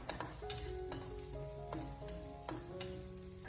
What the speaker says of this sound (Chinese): 然后再继续的开小火，把它不停的翻炒一下，